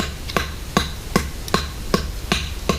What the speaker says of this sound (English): and I hammer that in